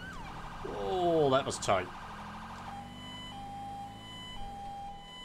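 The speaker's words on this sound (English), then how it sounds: "I think we can turn off the sirens" A loud police siren in GTA 5 wails and sweeps up and down rapidly, then cuts off, leaving a steady engine hum with a brief spoken remark.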